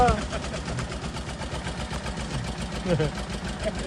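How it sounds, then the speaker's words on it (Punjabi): A tractor stuck in a pit at night strains under load, its engine chugging with a steady low throb while voices talk over it. "ਲੋ ਵੀ ਵੀਰੋ ਹੁਣ ਆ ਟਰੈਕਟਰ ਜਾਂ ਫੇਰ ਅੜ ਗਿਆ"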